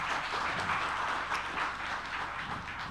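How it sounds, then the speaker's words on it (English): An audience at a cloud-native tech community event applauds the organizers, with dense, continuous clapping filling the whole stretch at an even level and no voices over it. "can we have a big applause for the"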